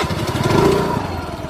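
A motor scooter engine runs close by, a loud, steady buzzing drone that swells slightly in the middle and carries on without any voices.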